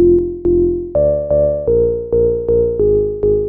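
A bright, buzzy Roland SH-101 analog synth line plays a short riff of plucky, repeated notes, each with a sharp attack and decay, stepping up then settling lower.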